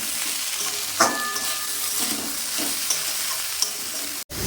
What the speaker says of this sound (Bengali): স্বাদ মতো লবণ দিয়ে দিলাম, নেড়ে দিলাম।